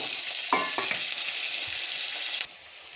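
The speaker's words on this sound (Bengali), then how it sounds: "তেল দিয়ে এখন আমি আলুটা ভেজে নেব।" Potatoes frying in oil in a wok for a pumpkin and crab dish, giving a steady loud hiss of sizzling with a few stirring scrapes, close up, dropping to a softer sizzle near the end.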